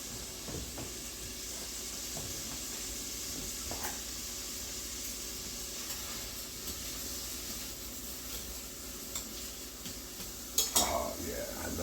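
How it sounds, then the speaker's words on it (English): Onions with green and red peppers sautéing in a pan, a steady soft sizzle throughout with a few faint stirring scrapes and a brief utensil clatter near the end. "we're gonna saute the onions and the green and the red peppers"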